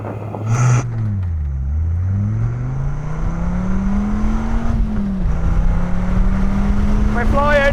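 A Dodge Viper accelerates hard from 0 to 60 mph, its engine note climbing steadily through gears with a brief dip at a shift, loud and close, while someone talks over it.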